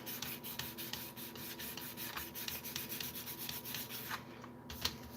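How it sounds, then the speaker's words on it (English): Sandpaper is rubbed by hand over a guitar body in quick, steady back-and-forth strokes, a soft, close, even scratching with no voices. "I'll probably sand this body again with sandpaper."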